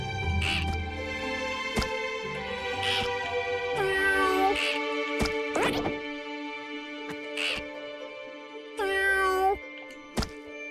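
Cartoon cat meows in the video game Just Crow Things repeat at irregular intervals, clear and fairly close, over a steady tonal game music bed with occasional sharp clicks.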